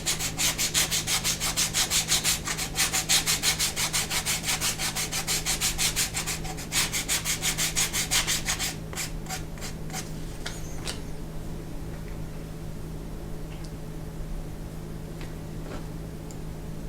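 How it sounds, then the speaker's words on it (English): Steady back-and-forth sandpaper strokes rub across the top edge of a leather bi-fold wallet, close and rhythmic for about eight seconds, then softer, sparser scrapes and light ticks as the work moves around a corner. "now I'm going to sand the top here."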